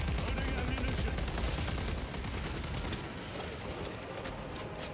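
Rapid gunfire from Warhammer 40k Space Marine 2, a heavy weapon firing in dense continuous bursts that fill the whole clip, loud and close, easing slightly toward the end amid game noise.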